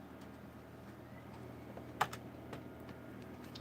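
Sparse, faint keystrokes on a Microsoft Natural keyboard attached to a Pentium 4 computer, a few isolated clicks over a steady low hum of machine noise, with no talking.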